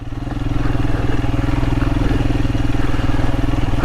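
Royal Enfield Himalayan motorcycle riding a muddy green lane, a close, steady single-cylinder thump with a rapid regular pulse and low rumble, carrying on evenly with no talking.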